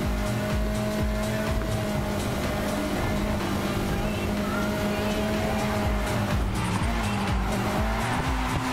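Car engine roar and tire noise from drifting in the racing video game Need for Speed Heat, a sustained loud revving drone with shifting pitch throughout, no talking.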